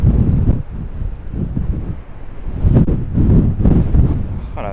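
A strong windstorm buffets the microphone on a golf course, roaring and gusting loudly and continuously in deep rumbling surges.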